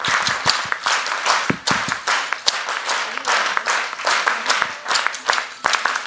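An audience stands and claps in the Mexican style, in a repeating one-two, one-two-three rhythm: loud, crisp bursts of many hands in sync, with brief cheers mixed in.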